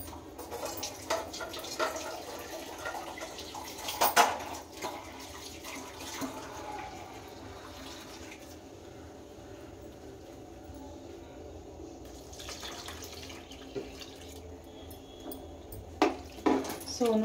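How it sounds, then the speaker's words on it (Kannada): Water runs and splashes faintly into a batter-like mixture in a home kitchen, a soft continuous pour with a few small clinks and knocks, low and close throughout. "ಈಗ ನಿಮಗೆ ಎಷ್ಟು ಅಳತೆಗೆ ಬೇಕು ಅಷ್ಟು ನೀರನ್ನ ಆ್ಯಡ್ ಮಾಡ್ಕೊತೀನಿ."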